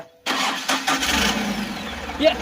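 A vehicle engine cranks and catches, settling into a rough, steady rumble close by, with people talking loudly over it.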